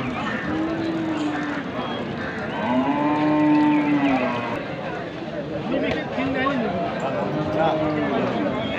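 A young cow with her calf at a village cattle market moos several times in drawn-out, rising and falling calls amid the crowd's chatter and people talking nearby.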